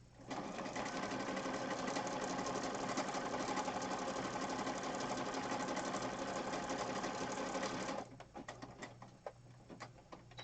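A sewing machine stitches around the outside edge of a mixed media piece in a fast, steady buzzing run for about eight seconds, then stops, leaving faint clicks and handling noises.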